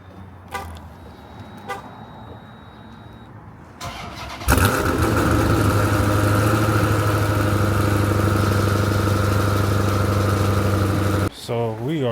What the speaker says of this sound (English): A quick cold start on the Gen 2.